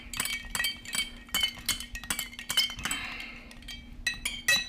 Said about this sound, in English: what I'm gonna do is just stir this one just a little bit more